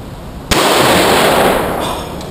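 A single loud revolver shot, a .38 fired at an outdoor shooting session, cracks sharply and then rings out in a long, broad decaying roar.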